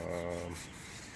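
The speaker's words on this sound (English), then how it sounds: "So we're just going to take care of sanding it down" Rough, steady rasping of sanding a boat hull's hard surface, close and continuous for about a second, easing slightly toward the end.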